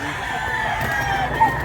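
A Kanawayon hatch bullstag crows briefly at a rooster market in Mantalungon, Cebu, a short call heard over low background chatter.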